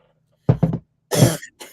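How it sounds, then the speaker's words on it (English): A few short coughs close to the microphone, a quick pair followed by two harsher bursts, with silence in between. "I don't know what that little cough is I have today."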